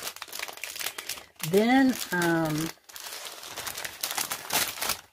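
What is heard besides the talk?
crinkling plastic packaging of a craft pad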